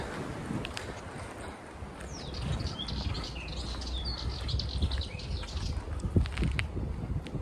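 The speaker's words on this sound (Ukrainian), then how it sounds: "Пташка десь там співає." Birdsong outdoors: a small bird chirps and trills somewhere in the distance, faint and intermittent, against wind buffeting the microphone.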